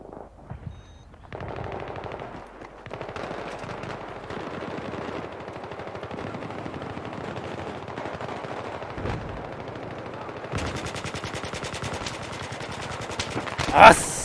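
Rapid machine gun fire in the video game Battlefield 3 on PS3, sustained bursts of gunfire rattling almost continuously and growing denser and louder toward the end.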